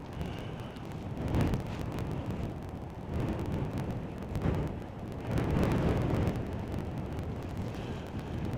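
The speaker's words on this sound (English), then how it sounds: "Wind is getting up to the point where I've got my foot on the tripod to stop it blowing away" Strong wind buffets a microphone at Bristol Airport in gusty, rumbling surges that rise and fall over several seconds, loud and continuous with no voices.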